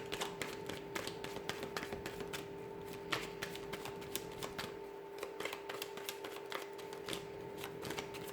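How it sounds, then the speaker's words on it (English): A deck of tarot cards being shuffled by hand, a rapid run of crisp riffling taps and flicks continuing steadily throughout, close and clear with no talking. "So I'm going to give the cards a shuffle here"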